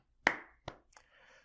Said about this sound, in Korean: 박수를 안 칠 수가 없네요.